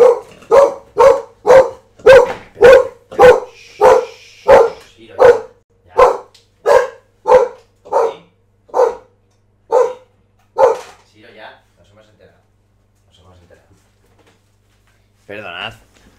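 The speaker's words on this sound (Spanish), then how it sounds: "y es igual a, perro ladrando a tope" A dog at home barks loudly and close after the intercom and door buzz downstairs: about twenty sharp barks in a steady, rapid run that slows and fades, then silence with a faint noise near the end.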